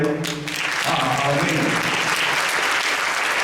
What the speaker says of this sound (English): Can I get a round of applause knowing that we're ready?